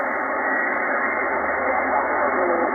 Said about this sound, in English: Still a lot of hash and noise.